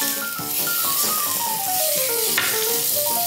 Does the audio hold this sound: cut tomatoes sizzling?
yes